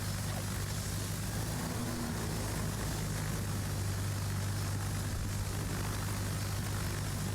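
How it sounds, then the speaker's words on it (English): Carrier aircraft from a World of Warships match drone steadily overhead, a continuous propeller engine hum with broad noise, loud and unbroken throughout with no talk. "your planes coming out will fly over it"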